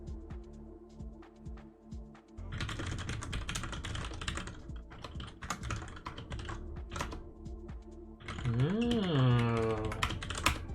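Computer keyboard typing while coding in Python, a run of crisp key clicks that grows into dense, rapid bursts, with a brief whistling tone rising near the end.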